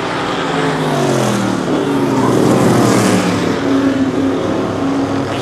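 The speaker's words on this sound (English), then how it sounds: "Tommy the Terror is out in front here, and he is fast." Race cars roar continuously at a super short track Oktoberfest event, several engines droning loud and steady with rising and falling pitch as they lap close by.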